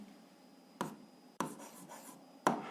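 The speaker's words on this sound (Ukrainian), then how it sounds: "записуємо відповідь, пишемо відповідь" Handwritten answer to a school algebra exercise: a pen scratches quietly across paper in short strokes, with three sharper taps where the tip meets the page, close and soft with no speech.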